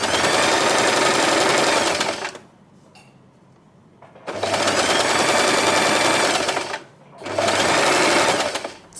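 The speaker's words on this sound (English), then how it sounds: "we are going to sew it right here" A sewing machine stitches satin fabric for a hair bow in three loud, steady runs, each a couple of seconds long, separated by brief pauses, close up with no talk.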